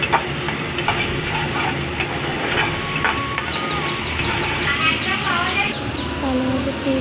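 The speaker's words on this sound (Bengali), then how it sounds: "এইভাবে ভালোভাবে নাড়াচাড়া করবেন।" Chili powder, sugar and salt masala stirred in a hot pan for a Bengali pabda fish curry, a steady scraping sizzle with spoon knocks, close and continuous, with a voice talking over it.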